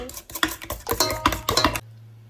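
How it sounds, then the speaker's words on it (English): A utensil stirs sugar into a baking mixture in a bowl, producing a quick series of close scraping and clinking strokes in an uneven rhythm before stopping abruptly. "Give this a stir."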